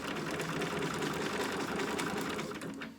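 A sewing machine stitching Velcro on a dog outfit runs in a steady, fast mechanical whir, close and continuous, easing off near the end.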